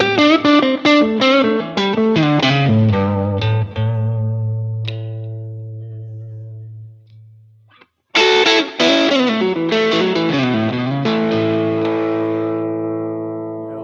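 An electric guitar with slight reverb and delay plays a run of quick plucked notes, then a long sustained tone that fades out. After a short gap, a fresh flurry of bright notes rings on into a decaying, echoing tail.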